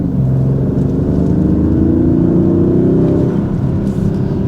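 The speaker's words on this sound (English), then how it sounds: "Give you a little bit of the exhaust clip" A 2026 Dodge Charger R/T Blacktop with a V6 engine accelerates hard. Its exhaust drones steadily and loudly, and the pitch climbs gradually as speed builds, with no talking over it.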